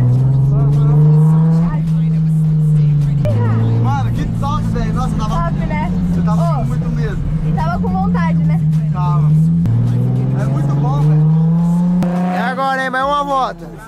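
Engine in a car accelerating and drifting, a steady revving tone that rises and falls in pitch with several surges and a squealing tire burst near the end, while someone talks over it inside the car.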